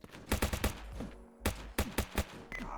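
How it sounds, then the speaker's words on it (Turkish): Gun bursts from the video game Streamer Life Simulator 2: two clusters of rapid, punchy shots, close and loud, separated by a short pause, with no voices. "Lan bu silah ne sekiyor böyle?"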